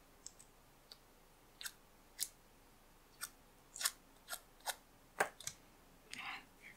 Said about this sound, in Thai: ลายตรงนี้ใช้กรรไกรรีดให้งอหน่อยนะคะ